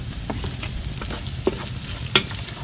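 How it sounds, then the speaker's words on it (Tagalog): Ginger and garlic sautéing in a pan for a coconut-milk vegetable dish with mangrove snails, a steady low sizzle of frying with a few sharp clinks of a utensil stirring against the pan. "Gisa muna tayo. Luya, bawang,"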